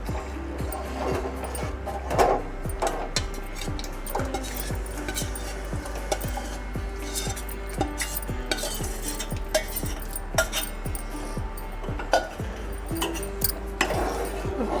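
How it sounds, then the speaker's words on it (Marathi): A spoon stirs semolina batter into boiling water in a pot, producing steady rhythmic scraping and soft clinks over a bubbling simmer, fairly quiet and close. "एका हाताने हा रव्याचा बॅटर टाकायचं आहे आणि चमच्याने चांगलं ढवळत घ्यायचं आहे"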